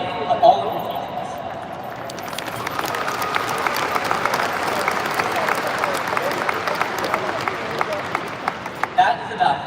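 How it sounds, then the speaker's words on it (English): Sustained applause from a large crowd in a high school graduation ceremony at Pearland High School, dense clapping filling the space with a few louder claps near the start and end. "Please give a round of applause and a thank you to all of your teachers"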